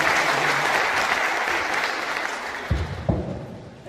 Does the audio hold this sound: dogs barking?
no